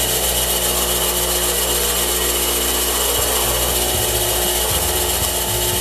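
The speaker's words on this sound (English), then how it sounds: "now that I've got the wheel up and running" Bench grinding wheel spinning up and running steadily, a loud continuous whirring hum with broad hiss and low rumble, no voices.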